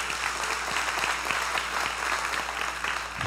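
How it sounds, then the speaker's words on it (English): Church congregation applauding during a Sunday sermon, a dense, steady wash of many hands clapping at once, fairly loud and continuous throughout with no talk over it. "give God a hand clap this day"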